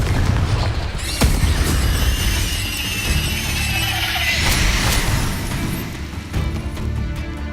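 Confringo fire spells burst in Hogwarts Legacy gameplay, a run of heavy booming explosions and crashes over a rumbling game soundtrack, loud and close with no voices.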